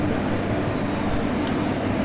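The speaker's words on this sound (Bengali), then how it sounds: "এটা হচ্ছে লোকাল ট্রেন শেওড়াফুলি।" Steady, continuous rumble of a local train at Bandel station bound for Sheoraphuli, heard nearby without speech.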